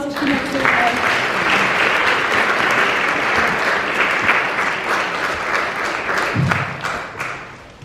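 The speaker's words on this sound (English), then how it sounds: "Give her a round of applause as she makes her way." An audience at a NAPA conference claps as a speaker walks up to the stage, a dense, steady round of applause that holds evenly and fades out near the end.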